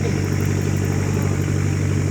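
A motorcycle engine runs close by with a steady, unbroken low droning hum and no change in pitch. No one speaks.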